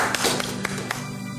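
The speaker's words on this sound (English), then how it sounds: "Let's give God a hand clap" A few sharp hand claps from a church congregation at a Wednesday service, sparse and uneven taps over a steady background tone, fading out after about a second.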